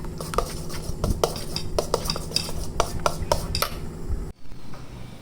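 Homemade multani mitti soap mixture with cut vitamin E tablets is stirred in a pan, giving repeated scraping and clinking strokes over a low steady hum, ending in a short near-silent gap.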